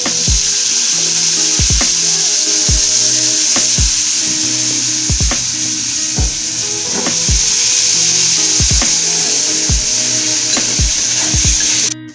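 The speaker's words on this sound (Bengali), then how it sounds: "এই যে আমার পেঁয়াজটা ভাজা হচ্ছে।" Onions sizzle steadily in a hot pan, a bright continuous hiss punctuated by regular scraping strokes of a spatula stirring them.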